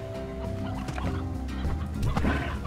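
Chickens in the video game Slime Rancher cluck and gobble in a steady busy stream of fowl calls, close and moderately loud, with no talking over them.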